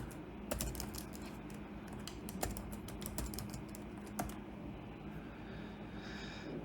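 Quick keystrokes on a computer keyboard as a password is typed: scattered crisp clicks in short bursts over a low steady hum, with no talking.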